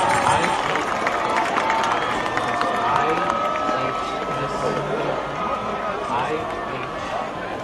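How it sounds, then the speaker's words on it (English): Stadium crowd at a high school football homecoming claps and cheers in the open air, a broad wash of applause and shouts with whistles on top that slowly fades while chatter carries on underneath. "Let's give one more round of applause for our king, queen, and all of our attendants."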